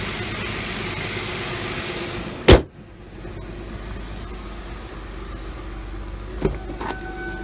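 A Jaguar V6 runs at a smooth, steady idle after a cold start, with a single sharp knock partway through and a faint clunk near the end.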